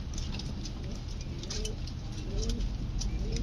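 Shirazi-type pigeons for sale coo softly in a cage, a low murmuring under steady background noise, with a few faint bird calls rising briefly around the middle.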